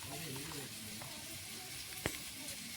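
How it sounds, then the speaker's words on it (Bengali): Onions frying in a pan for a mutton dish give a steady, close sizzling hiss with a few faint stirring clicks and one sharp tap near the end. "পেঁয়াজটা কিন্তু অনেকটাই ভাজা হয়ে আসছে, আর একটু আমি ভেজে নিচ্ছি লাল লাল করে"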